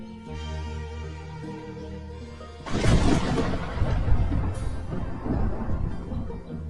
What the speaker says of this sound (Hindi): क्योंकि काफी तेज बिजली कड़कने लगी थी।